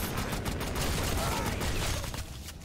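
SPAS shotgun fire in Black Ops 3 zombies on a custom map, dense rapid bursts of gunfire packed loudly together, with a voice talking faintly underneath.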